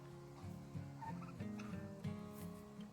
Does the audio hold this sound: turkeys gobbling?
yes